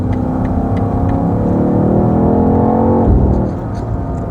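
BMW XM G09 SUV accelerating past other cars, its engine note climbing steadily in a loud, close, rising drone, then dropping off sharply as the throttle lifts near the end.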